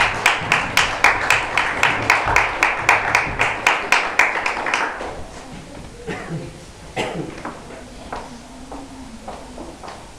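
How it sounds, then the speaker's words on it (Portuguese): Congregation clapping hands together in praise at a church service: a steady, rhythmic run of claps for about five seconds, then fading into scattered claps, murmuring and a few voices. "E as palmas louvam ao Senhor."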